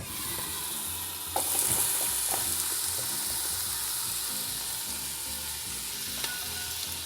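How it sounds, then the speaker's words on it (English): Coarsely chopped onions fry in a pot for Madras curry, a steady close sizzle and hiss with occasional clicks and stirring knocks, with no talking. "I'm going to add these coarsely chopped onions."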